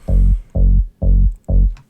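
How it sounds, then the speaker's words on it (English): Four deep, booming sub bass notes from the Vital synthesizer pulse in an even rhythm in a trance track, each swelling and then cutting off, with nothing else playing. "I'm using the Vital synthesizer here for the sub bass."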